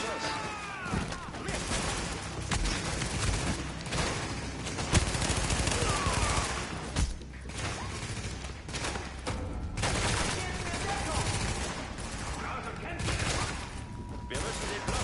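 Sustained video game gunfire from The Division, with rapid bursts and dense volleys filling the scene, mixed with game sounds and a player talking over it.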